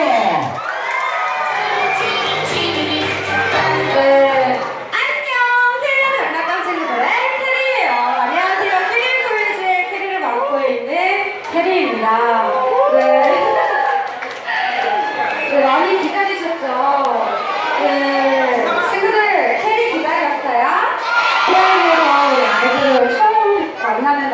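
Children shout and cheer loudly as a crowd at a kids' toy event greets a host, a long continuous clamour of excited young voices rising and falling, with a few stretches of brighter shrieks.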